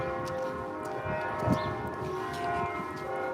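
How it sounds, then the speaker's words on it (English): Church bells ring on Palm Sunday, sustained metallic tones humming and overlapping at moderate volume, heard outdoors amid light street background noise. "it's a church with church bells"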